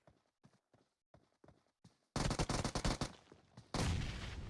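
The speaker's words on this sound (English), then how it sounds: "Very nice grenade." A grenade bursts in a battle royale shooter match, a loud sudden blast that sets off dense rapid gunfire and a lingering rumble, after a stretch of quiet, scattered footstep-like taps.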